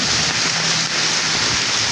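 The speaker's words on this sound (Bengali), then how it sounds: "তো এই বৃষ্টিতে অনেক ভালো কি এই বৃষ্টির মাঝে মানুষের" Steady rain falls during hot weather, a dense, even hiss that holds constant throughout with no voices.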